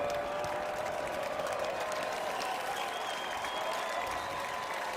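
A stadium crowd roars and applauds steadily at a Bobcat Stadium college football playoff game, a dense, even wall of cheering and clapping that holds for the whole stretch, loud and unbroken.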